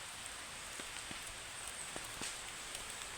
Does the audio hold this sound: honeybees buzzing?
no